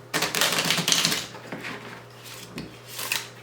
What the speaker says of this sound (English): the first thing you're going to do is shuffle your deck